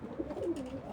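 Pigeons at a bird market give a soft, low coo, faint and brief against quiet background noise.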